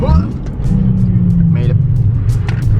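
A Nissan 350z engine blips as it downshifts, a close steady drone with a rise in revs, loud throughout with some background noise.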